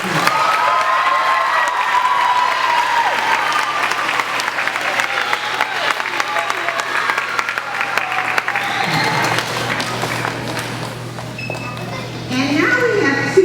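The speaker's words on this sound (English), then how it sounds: "So let's give our sixth graders a round of applause." Sustained audience applause at a school awards chapel for sixth graders, a dense steady clatter of many hands running the full length with cheering voices mixed in. It thins slightly near the end, then swells again.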